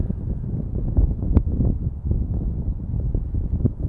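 Wind buffets an outdoor microphone at an airport plane-spotting spot, a steady low rumbling roar with gusty swells throughout and no voices.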